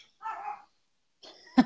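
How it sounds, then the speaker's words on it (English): A dog gives a single short, sharp bark at close range, preceded by faint brief murmurs in an otherwise quiet room. "Nice dog."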